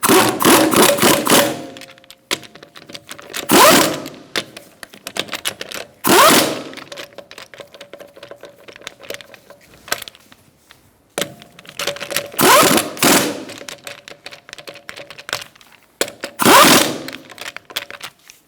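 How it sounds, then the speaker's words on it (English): Lug nuts on a 2012-2018 Ford Focus wheel being tightened in a star pattern, several loud bursts of rapid ratcheting rattle spaced a few seconds apart, with quieter clicks and clunks between, and no talking. "We're going to tighten up our lug nuts in a star-like pattern."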